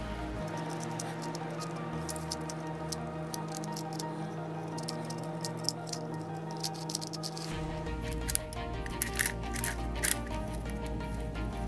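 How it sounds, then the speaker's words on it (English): A 3x3x1 Rubik's Edge floppy cube is twisted and solved by hand, giving a steady patter of small plastic clicks and rattles that grow busier and sharper toward the end, close and with no talking. "There's the 3x3x1 being solved."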